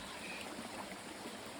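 A cold mountain stream flows steadily close by, a soft continuous babble and trickle of water with no voices.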